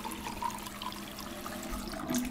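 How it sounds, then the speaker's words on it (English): Tap water running into an empty bottle in the video game Life is Strange 2, a steady close faucet stream with a low filling tone, heard alone. "Flasche auffüllen."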